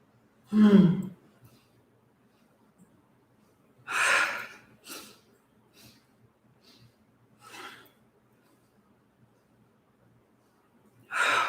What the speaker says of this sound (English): Little sniffs through the nose and out the nose.